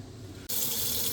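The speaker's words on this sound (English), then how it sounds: "I'm running the water again." An RV sink tap is suddenly turned on partway through, its water gushing loudly and steadily into the basin after a quiet hum.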